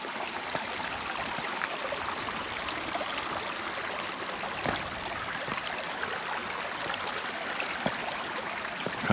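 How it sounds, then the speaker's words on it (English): Creek water flows over rocks in a wooded area with a steady, continuous rushing babble, close and even throughout with no voices. "Wow, what a beautiful creek."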